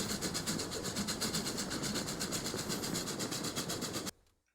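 A train in the game Transport Fever 2, rolling steadily with rhythmic clickety-clack wheel beats and engine rumble, loud and continuous, then cutting out abruptly near the end.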